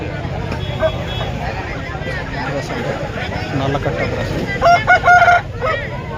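Chickens cluck and a rooster crows at a busy, noisy outdoor village poultry market selling country chickens, with people talking throughout and a louder burst of crowing near the end.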